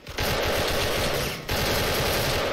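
Rapid automatic rifle gunfire rattles loudly in two sustained bursts separated by a brief pause in a video game firefight in Sudden Attack, with AK and M16 rifles.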